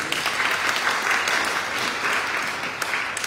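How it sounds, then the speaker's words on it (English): Church congregation applauding at a Rogation Sunday service, a loud, even burst of clapping from many hands filling the room without a break. "So round of applause for them."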